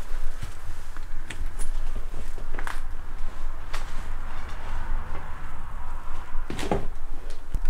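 An old door in a supposedly haunted house pushed open, with scattered creaks, knocks and shuffling footsteps over a steady hiss of room noise.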